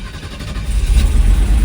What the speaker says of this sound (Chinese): 大哥要发动了。